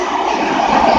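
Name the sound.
Class 90 and Class 66 locomotives hauling a train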